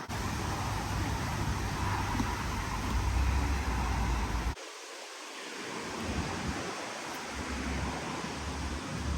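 Strong wind roars across an open horse pasture, a continuous buffeting rush on the microphone that briefly drops out midway before building again.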